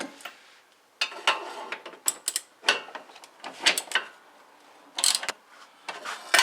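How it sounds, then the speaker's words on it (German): A ratchet tightens the crossmember bolts on a Porsche 944 S2 during an engine mount replacement, several close bursts of rapid clicking separated by short pauses, with no voices. "Also erstmal so fest, wie es mit der Ratsche geht."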